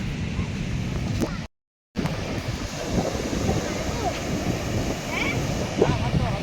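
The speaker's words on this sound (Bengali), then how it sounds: "সত্যি পুরীর সমুদ্র শুনেছিলাম অসাধারণ শান্তি আর গর্জন শুনছো দেখো ঢেউ দেখো" Sea waves roar steadily on Puri beach, a constant broad wash of surf with heavy wind buffeting the microphone and a brief cut-out near the start.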